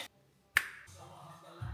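A short tack weld on a BMW E21 body lands as a single sharp snap, followed by a low hum fading into the background, close and brief.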